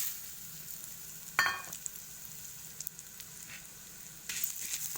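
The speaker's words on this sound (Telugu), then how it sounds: "మంచిగా ఎర్రగా అయ్యే వరకు వేయించుకోవాలి నూనెలో. ఇప్పుడు ధనియాలు వేసుకుందాం." Coriander seeds fry in hot oil in a home kitchen, toasted for a spice powder. A faint, low sizzle runs throughout, with a few brief louder crackles and a stir near the end. No one speaks.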